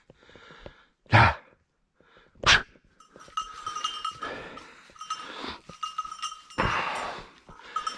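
A small female hunting dog on a woodcock hunt gives a couple of sharp yelps, then whines and whimpers in a string of high, strained cries nearby.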